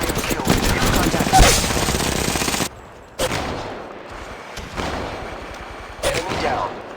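Apex Legends gunfire from sniper rifles and pistols: loud, sharp shots and bursts in close succession, broken by brief quiet gaps, with game sound layered over them.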